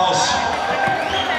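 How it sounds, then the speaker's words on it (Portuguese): Short burst of applause and cheering from a live metal concert audience at a show, a dense wash of crowd noise that stays loud and steady throughout. "Um grande aplauso."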